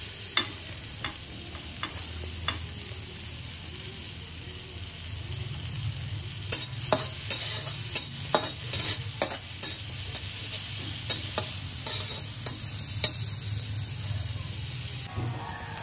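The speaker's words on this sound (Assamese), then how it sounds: "তাতে পিঁয়াজ দি ভাজি ল'ম।" Onions frying in melted butter in a hot kadai, with a steady sizzle under a run of sharp spoon scrapes and taps as they are stirred, loudest toward the end.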